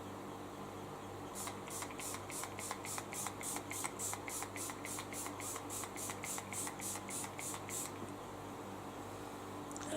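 Rimmel setting spray misted onto a face in a long run of about twenty quick, evenly spaced hissing pumps, close and fairly loud, with no talking.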